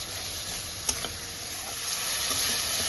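A paste of tomato, onion, garlic, chili, ginger and cumin sizzles steadily in hot oil, a close, even hiss with a couple of brief clicks from stirring.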